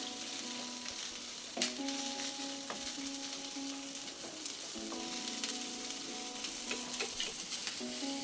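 Brinjal, okra and turkey berries sauté on a low flame, a soft steady sizzle broken by occasional stirring scrapes and clinks of a spoon against the pan, close and fairly quiet.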